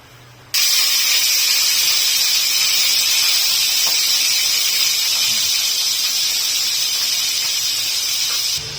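Eggplant frying in hot oil sizzles loudly and steadily, a constant bright hiss that starts abruptly and holds without pause for several seconds.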